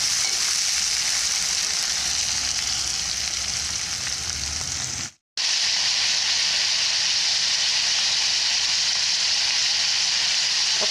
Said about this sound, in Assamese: অকণমান দেৰি ৰঙচুৱাকৈ ভাজি ল'ম দেই মাংসখিনি